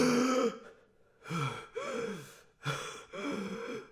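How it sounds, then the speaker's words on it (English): Sharp gasps for breath on waking, four ragged intakes with pauses between, close and fairly loud, with no talking, like someone jolting awake after nearly drowning in a deep-sea diving bell. "I woke up in the diving bell, gasping."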